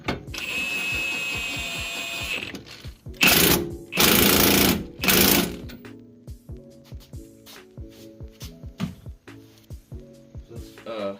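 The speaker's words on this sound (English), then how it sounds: "I'm gonna grab my impact. And torque it down." Impact wrench torquing down a CV axle on a Mazdaspeed 3, three loud broadband bursts of hammering close by, followed by quieter rattling, clicking tool and parts noise.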